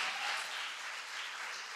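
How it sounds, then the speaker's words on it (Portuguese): A church congregation applauding: a dense, steady wash of many hands clapping together, sustained at even loudness through the brief moment with no voices. "Aplauda ao Senhor, amém?"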